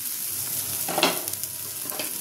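Prawns dropped into cooked, thickened spice paste with chopped tomato in a hot pan for a Bengali-style red curry, a steady loud sizzle with a brief stirring scrape near the middle.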